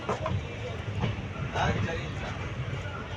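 A passenger train on the Palani to Dindigul line rumbles steadily, heard from inside the carriage, with a continuous low roar, light rattling clicks and a speaking voice over it.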